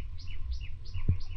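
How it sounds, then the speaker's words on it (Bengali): Birds calling in a bird sanctuary, a few short rhythmic chirps repeating at a moderate distance over a faint low background, with one soft thump. "সামনেই পাখির ডাক শোনা যাচ্ছে।"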